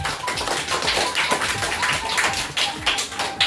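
Students clapping for a police officer at a school event, a dense burst of close, sharp handclaps that keeps going steadily for a few seconds.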